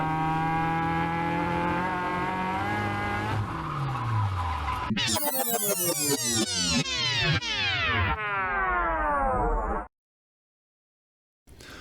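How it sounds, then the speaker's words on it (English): Caterham 7 race cars at a Portland circuit roar loudly, with engines revving up through the gears and sweeping past in quick Doppler passes before the sound cuts to silence. "So here's how most Caterham 7 racing happens."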